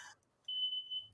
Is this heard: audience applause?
no